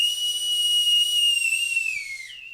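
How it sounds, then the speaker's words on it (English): A veteran blows his old Canadian Navy whistle in one long, shrill, steady blast that holds for about two seconds, then slides lower and trails off. It is loud and close, with no talking. "It's been nearly 70 years since he last used this whistle for the Canadian Navy"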